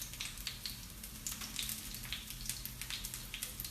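Spicy onion bhajis shallow-frying in hot, not smoking, oil, giving a steady crackling sizzle with small irregular pops throughout, close and continuous, with no talking.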